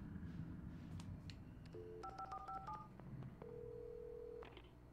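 A quick run of electronic keypad tones as a telephone number is dialed in Alan Wake, followed by a single longer steady tone, heard faintly over quiet background.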